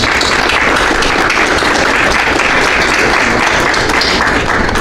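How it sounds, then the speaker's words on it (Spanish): Audience at a book presentation during the Lima International Book Fair breaks into loud, sustained applause, dense clapping from many hands close by, steady with no talk over it. "yo quiero que le demos un fuerte aplauso a don Alberto"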